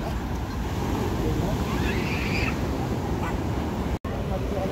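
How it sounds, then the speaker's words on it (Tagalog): Big ocean waves rolling onto a shore crowded with boats, a continuous roar of surf and wind, with a faint quack-like call in the middle. "Tamo-tamo ng mga alon, kalalaki talaga, oh."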